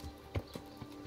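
Horse hooves in the medieval video game Kingdom Come: Deliverance, a few slow, separate clip-clop thuds of a walking horse, fairly close and quiet, with no talk.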